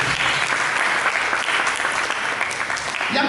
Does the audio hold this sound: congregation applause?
yes